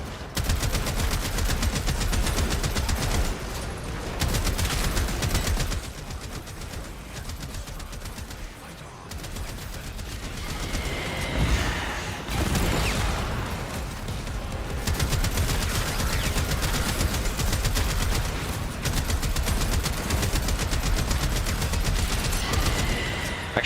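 Rapid, continuous automatic weapon fire from a primary gun in the action game Zenless Zone Zero rattles loudly for most of the stretch, dipping briefly into quieter gaps before resuming dense bursts.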